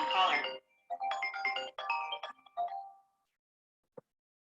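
A phone rings with a melodic tone for an incoming call from an unknown caller during a lecture. A brief voice is heard first, then a short run of electronic notes and a single faint click afterward.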